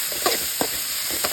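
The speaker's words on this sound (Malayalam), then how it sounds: "നമുക്കിനി അരിഞ്ഞ് വെച്ചിരിക്കുന്ന സവാളയും പച്ചമുളകും ഒക്കെ ഇട്ട് കൊടുക്കാം. ഇനി നമുക്ക് വഴറ്റി കൊടുക്കാം." Sliced onions and green chilies sautéed with mustard seeds and curry leaves in a hot pan, a steady soft sizzle broken by a few light stirring scrapes.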